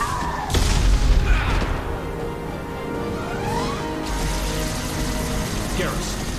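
Rocket launcher blast in the video game Mass Effect 2: a loud, close boom with a low rumble, then mechanical clanks and gear-like rattles as combat noise continues.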